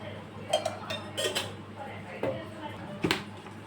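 Chopped onions, green chillies, coriander and salt being mixed for a bread omelette, with a few distinct clinks and scrapes of utensil against a dish, spaced irregularly and fairly close.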